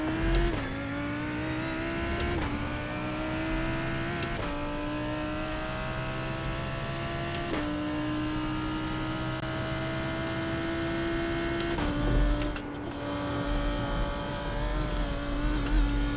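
Race cars in the iRacing sim game: a loud, close engine drone climbs in pitch through each gear, then drops sharply at several shifts. Tire noise shows faintly, and no one talks.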